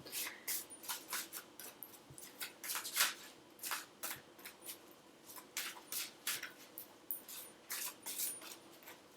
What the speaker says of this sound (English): why do these cards not want to shuffle?